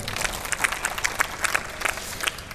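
Audience at a temple religious discourse clapping in a steady, moderately loud patter of many hands, filling the whole short stretch without pause.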